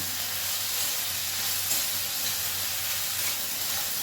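Ash gourd pieces with salt frying in a pan on a gas stove, giving a steady, even sizzle and hiss with faint stirring, close and continuous throughout, no voices.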